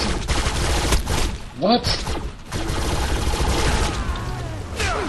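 Full-auto gunfire in the video game Defiance rattles in dense bursts under excited players' voice chat, with brief lulls between volleys.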